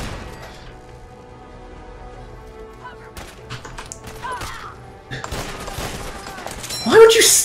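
Scattered turret gunfire and impacts in Fallout 4 pop against a quieter background, building into louder, denser shots toward the end while someone talks over the action.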